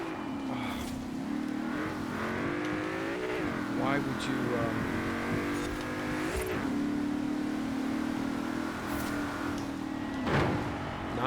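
A race car engine in Forza Horizon 4 drones steadily and rises in pitch during acceleration, with occasional gear-shift dips, while someone talks over it.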